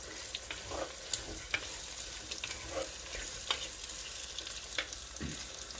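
Garlic, curry leaves and tomato frying in a pan, a soft continuous sizzle broken by scattered spoon scrapes and stirring taps, close up, quiet and without any voices.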